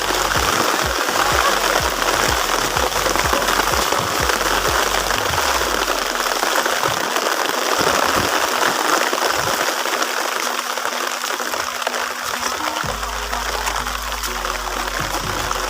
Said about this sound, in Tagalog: sobrang lakas talaga ng ulan